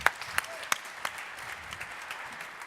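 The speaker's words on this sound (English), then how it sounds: "Let's give them a big round of applause" An audience at a startup pitch competition applauds for a few seconds, with sharp scattered claps at the start that settle into a thinner, fading patter.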